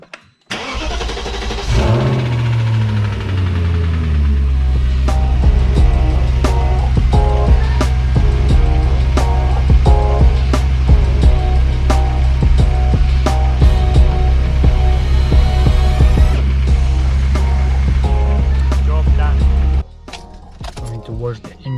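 A BMW E38 740i engine cranks and starts after a timing chain job, then settles into a loud, steady idle up close for about eighteen seconds before being shut off.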